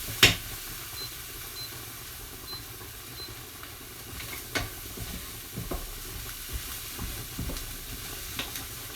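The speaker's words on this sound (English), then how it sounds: "Stirring that in." Pumpkin sauce for pappardelle pasta sizzling in a pan on the stove, a fairly quiet steady fizz with intermittent spoon scrapes and taps as it is stirred, plus one sharp click near the start.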